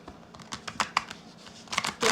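Tarot cards being shuffled by hand, a quick run of close, crisp riffling taps and flicks in an uneven rhythm, with no voice over them.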